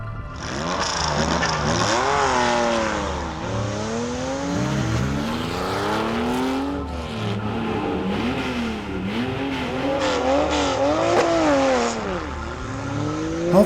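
Race cars on the La Carrera Panamericana road race in Mexico, engines revving hard through corners with rising and falling pitch as gears change, loud and close.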